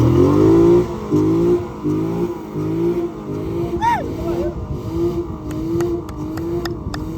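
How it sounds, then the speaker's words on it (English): A car stuck in sand revs hard in repeated surges, wheels straining, with a short whistle-like squeal midway and voices faintly mixed in. "One of their cars is stuck in the sand, so a small recovery is first needed."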